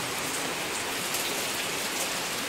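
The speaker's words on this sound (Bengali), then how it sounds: "তাই এখানেও এই দিক থেকে বৃষ্টি পড়ছে, এখানে বৃষ্টি পড়ছে উপর থেকে" Rain pours down from above into a kitchen, a dense, even hiss of drops striking surfaces, steady and fairly loud with no voices.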